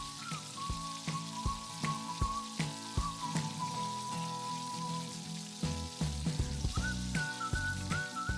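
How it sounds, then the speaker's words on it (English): Moong dal pakoras deep-frying in hot oil on medium heat crackle in a soft, steady sizzle, with scattered sharp pops and clicks under a quiet whistling melody. "Let the pakoras fry on medium heat, turning them from all the sides."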